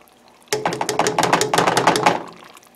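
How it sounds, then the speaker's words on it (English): A spoon stirs Alfredo sauce with added salt and garlic, making a rapid run of close clinks and taps against the pot for about two seconds, with no talking. "So we're going to give that a stir"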